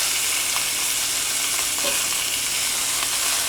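Lamb shanks browning in a hot pan, giving a loud, continuous sizzle and frying hiss with no voices.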